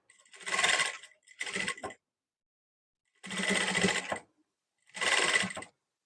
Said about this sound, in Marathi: आता इथे मी प्रेस शिलाई पण करून घेते. अस्तरवरती स्टिच करायचंय.